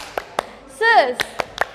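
Children at a church Sunday school service clap their hands in a handful of sharp, separate claps, with a brief sung or called-out voice in the middle.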